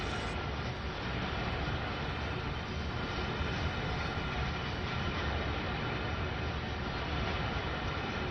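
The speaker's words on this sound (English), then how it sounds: "Looks like there's a train behind me." A video game train rumbles steadily close behind, a constant broadband roar of wheels and engine with no talking, holding at the same level throughout.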